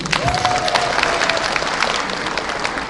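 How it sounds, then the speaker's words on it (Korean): A crowd at a Rotary district conference applauds in a large hall, a sustained dense wash of clapping with scattered voices underneath, steady and fairly loud throughout. "그래서 이럴 때 박수 한번 쳐줍니다"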